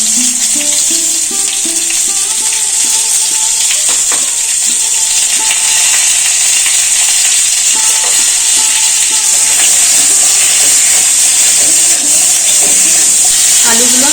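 Potatoes seasoned with salt and turmeric fry in hot oil already used for frying fish, a loud, continuous close-up sizzle and hiss throughout, with a voice faintly audible at moments.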